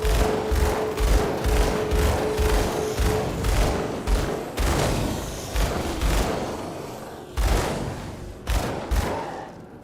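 Dual pistols fire in rapid bursts in Grim Dawn, a steady stream of sharp punchy shots with dull booms underneath, continuous across the whole stretch.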